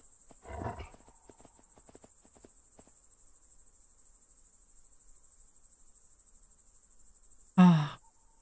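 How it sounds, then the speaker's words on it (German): Crickets chirp in the ATLAS video game's night ambience, a faint high buzz running throughout, with a brief rustle near the start and a loud thump near the end. "Oh, das Grillenzirpen."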